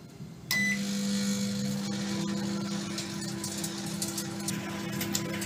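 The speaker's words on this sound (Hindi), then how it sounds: "अगेन 3 मिनट के लिए दोबारा अपने माइक्रोवेव में रखेंगे" A Panasonic microwave oven runs while cooking mutton keema, giving a steady close hum with a constant electrical drone that starts abruptly after a brief quiet moment and continues evenly.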